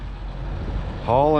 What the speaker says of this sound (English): Now there's a car coming.